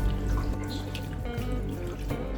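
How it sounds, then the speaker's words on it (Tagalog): Two glasses of water are poured into a frying pan of beef for a Filipino beef riblet dish, a steady close liquid splash and trickle with no talk. "Nilagyan ko rin ng 2 basong tubig."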